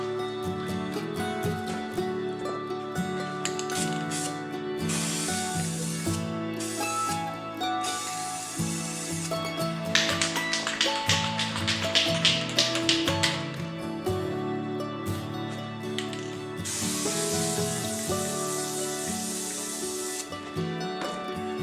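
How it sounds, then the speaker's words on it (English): A spray gun lays a final wet coat of paint on a modified Moroso oil pan, hissing in long bursts against a bed of background music, with no talk. "I'm going to throw the last wet coat on it now."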